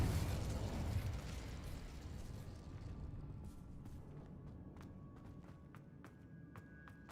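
The Confringo spell goes off in Hogwarts Legacy as a loud, booming explosive burst that rumbles and decays over several seconds, followed by sharp crackling pops as debris settles.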